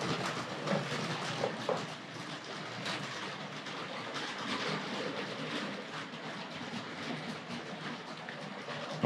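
A Tri-ang Railways RS.2 model express passenger train runs over a diamond crossing on toy track, giving a continuous faint rattling whir with light clicks as the wheels cross the joints.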